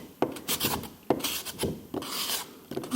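A tool scrapes back a plaster mould in a ceramics workshop to reveal the seam, giving several close, rough strokes in an uneven rhythm with short pauses between them and no talking.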